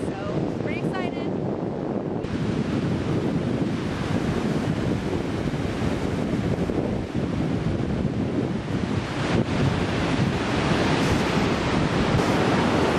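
Ocean waves rolling onto the shore at Galveston, a continuous loud rush of surf mixed with heavy wind noise on the microphone, with faint voices now and then.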